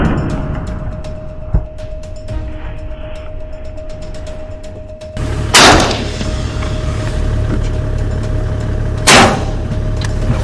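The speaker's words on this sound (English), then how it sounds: "Good shot. Good shot." Rifle shots fired while hunting invasive feral camels in the Australian outback: two sharp, loud broadband cracks several seconds apart over steady outdoor background noise, with a brief thump earlier.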